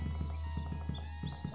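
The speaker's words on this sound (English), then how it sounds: "To capture horses, wild horses." In a wild horse island video game, hooves clip-clop in a quick, even galloping rhythm over a steady low hum, with light chiming tones drifting above.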